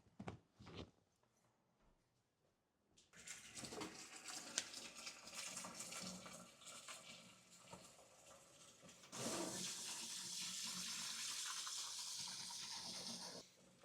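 Tap water runs into a basin to soak sweaters in soapy water, beginning with brief clunks and splashes, then a steady rushing pour that grows louder near the end.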